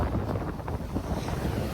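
Sea waves washing up on a beach shore, a steady rushing wash with strong wind buffeting the microphone throughout.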